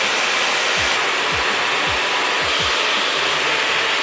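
A hair dryer fitted with a diffuser blows a steady, loud roar while drying hair, with a few soft low thumps underneath as it moves, and no voices.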